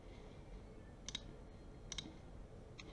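Computer mouse clicks as a smooth mesh tab is selected in 3D modeling software: a few sharp, close clicks, with pairs near one and two seconds and a fainter one at the end, over a quiet room hum.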